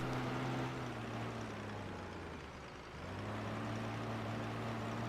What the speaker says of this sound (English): That engine sounds a little funny.